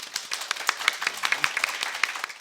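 A small audience at a welcome reception for newly qualified legal scriveners claps sparsely, with distinct individual claps in a loose, fairly quiet rhythm.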